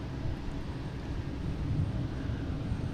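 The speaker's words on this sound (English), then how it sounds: "a whole mess of planes heading out there now" Airplanes taxiing and departing at Boston Logan airport make a distant, continuous low jet-engine rumble that swells slightly, with no voices.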